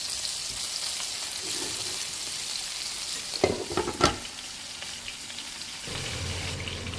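Chicken steak fries in a pan with an even, moderate sizzle. Midway there is a brief burst of clattering knocks and scrapes, then the steady frying resumes, with no voices.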